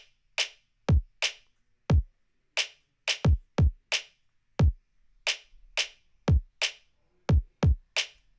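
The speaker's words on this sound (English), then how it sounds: "And the drums sound like this." A drum and bass drop pattern plays with sharp, punchy kicks and snappy snares in a fast, syncopated rhythm, dry and loud with no other sounds.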